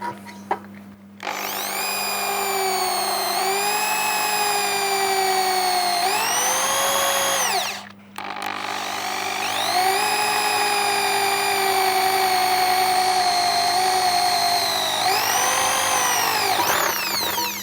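A Dongcheng DJZ10-10 electric drill bores a 4 mm hole into roughly 4 mm thick iron at low speed, a steady whining motor with a harsh grinding edge, briefly dipping and restarting midway, loud and close with no talk.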